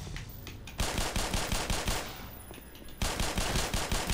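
Automatic gunfire from a soldier's weapon in the Black Mesa video game, two rapid bursts of close, loud shots separated by a short pause.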